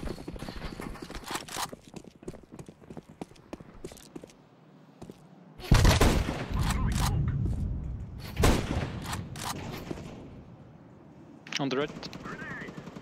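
Shotgun blasts in Counter-Strike 2 on the Nuke map: a few loud, booming shots spaced several seconds apart, over in-game footsteps and background noise, with players talking.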